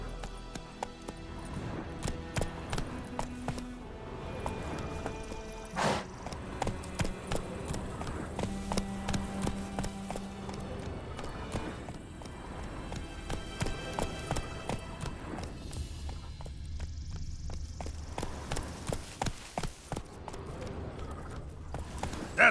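Geralt's horse Roach galloping in The Witcher 3: Wild Hunt on PS5, steady rhythmic hoofbeats running through the stretch with game music and occasional speech over them.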